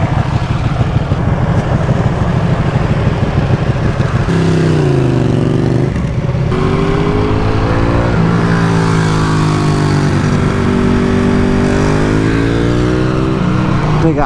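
Loud motorcycle engine revving hard and continuously, with rising and falling pitch sweeps as the throttle opens and closes, close up and dominating throughout.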